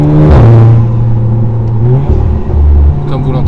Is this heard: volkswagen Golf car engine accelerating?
yes